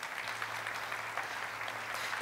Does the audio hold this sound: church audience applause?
yes